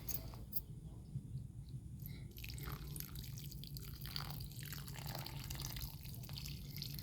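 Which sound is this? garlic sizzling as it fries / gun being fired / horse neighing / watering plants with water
watering plants with water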